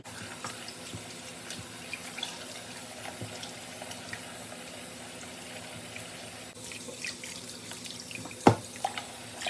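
Steak meat rinsed under a running kitchen tap, a steady close rush of water hissing into the sink throughout, with a brief clunk near the end.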